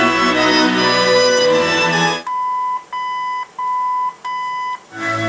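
Car stereo electronic beeping while setting balance mode: a long tone cluster, then a series of short, evenly spaced high beeps, clear and close, with no talking.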